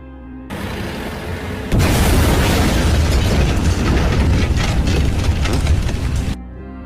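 Car blowing up in an Indian film scene: a loud, sustained roaring blast of broadband noise that jumps sharply in intensity and rumbles for several seconds before cutting off.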